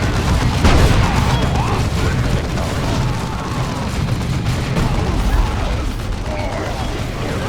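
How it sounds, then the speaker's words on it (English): Mine grenades go off in Warhammer 40,000: Dawn of War II as a dense, continuous barrage of booms and crackling battle noise, loud and sustained throughout with a stronger blast near the start. "How's that for a grenade?"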